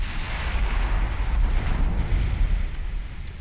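Heavy 17-inch battleship guns firing in the naval game Ultimate Admiral Dreadnoughts, a sustained deep rumbling roar of gunfire and explosions with no speech over it.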